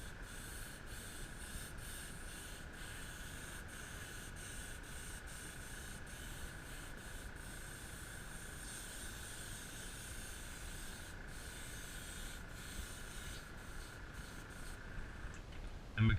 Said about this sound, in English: because of the cup on this cheap ass airbrush that I'm using right here